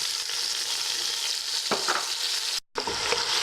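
Garlic, ginger, tomato and green chili fry in a pan with a loud, dense sizzle and occasional stirring scrapes, unbroken apart from a very short dropout near the end, with no one speaking.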